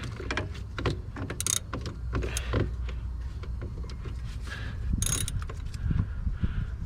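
Metallic ratcheting and clicking of a nut being tightened onto a thin wire during maintenance on a Freightliner Cascadia truck, steady mechanical rattles close up with a constant low hum underneath.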